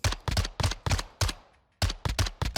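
Assault rifle firing in Warzone 2, close and loud, with rapid bursts of sharp cracking shots, a short pause with a fading tail, then another quick burst.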